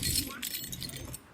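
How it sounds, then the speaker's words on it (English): Metal Allen keys jangling and clinking together in a quick burst of bright rattles, fairly close, fading after about a second. "I hate Allen keys."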